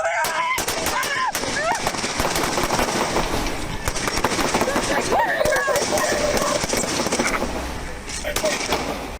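Police shootout with a suspect firing while running at an officer, a dense, loud barrage of rapid gunshots and sharp cracks that continues without a break, mixed with shouting voices.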